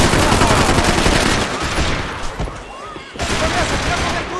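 Dense, sustained gunfire fills a Max Payne 3 firefight: loud, continuous rapid shots and bursts with a brief dip near the end, and voices shouting underneath.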